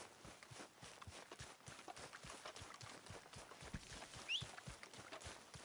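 Horse hooves walking in the Red Dead Redemption 2 video game, a steady run of soft clopping steps close by over a background wash of ambient noise, with no speech.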